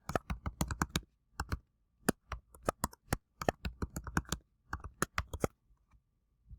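Keys clatter in quick irregular bursts as a verification code is typed on a computer keyboard, close and fairly quiet with brief pauses between runs of keystrokes.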